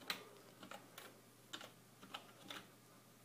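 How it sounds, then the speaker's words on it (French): Password typed on a computer keyboard during a Linux login, a series of quiet, irregular key clicks spread across a few seconds, fairly close and with no talking. "il nous demande le mot de passe, donc on le tape"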